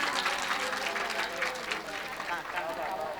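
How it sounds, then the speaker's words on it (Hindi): An audience at a religious katha gathering applauds during a garland welcome ceremony, giving steady, dense clapping that stays loud and continuous throughout, with some voices mixed in beneath it. "तालियों।"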